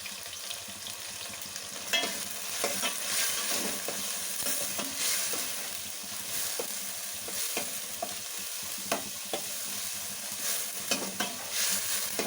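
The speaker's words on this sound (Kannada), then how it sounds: "ಟೊಮೆಟೊ ಸ್ವಲ್ಪ ಫ್ರೈ ಆಗಲಿ." Tomatoes fry in a pan for Chettinad chicken gravy, a steady close sizzle with repeated scraping stirs throughout and no talk.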